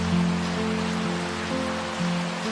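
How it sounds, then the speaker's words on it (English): Steady rain ambience from the Curtiss King Tapeboy lofi plugin, a continuous hiss of falling rain with a low hum beneath, even and fairly loud with no voices. "So here's the rain noise."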